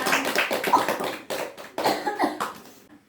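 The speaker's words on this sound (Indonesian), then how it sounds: "tepuk tangan ya udah kenal semuanya" A small group in a counseling session claps hands, a loose burst of uneven clapping that swells and dips in short waves before stopping abruptly near the end.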